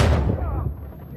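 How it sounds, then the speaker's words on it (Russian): Explosion in a cave in the video game Uncharted 4, a single loud, booming blast with a sharp onset that rumbles and decays over about a second, with faint voice-like tones in the tail. "Все равно взорвутся"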